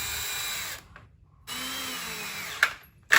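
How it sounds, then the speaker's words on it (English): Power drill driving screws into red cedar boards for a live edge raised planter box, whirring in two close bursts separated by a short pause, with sharp clicks of the chuck near the end. "And then I'll drill these and then sink my screws."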